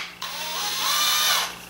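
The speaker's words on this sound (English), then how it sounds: "I'm going to use a brad point bit instead of a twist bit to make sure that this thing doesn't wander on me." Power drill boring into wood with a brad point bit during a poker table top build, a short whining spin that rises, holds for about a second and cuts off, heard up close with no talking.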